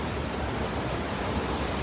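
Floodwater gushing through a breached farmland embankment makes a dense, steady roar of rushing water, loud and unbroken throughout, with no voices.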